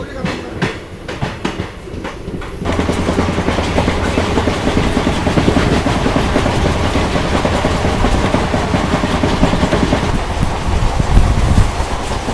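Kakinada Town–Mysore Junction express train, running on its first trip, rolls along with a dense, loud, continuous rumble and rhythmic clickety-clack of wheels over rail joints, steady for the whole stretch, with faint talking in the background.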